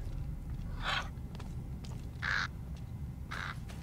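Crow cawing in the video game Thief: three separate harsh caws spaced about a second and a half apart over a low background rumble, moderately close.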